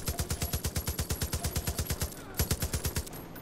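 Rapid automatic gunfire from Far Cry 5 rattles in a steady, evenly spaced burst, pauses briefly, then resumes with a few more shots, loud and close with no talking over it.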